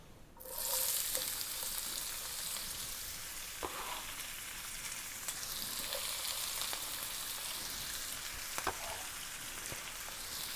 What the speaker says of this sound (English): I'm going to go ahead and saute my onions and my garlic.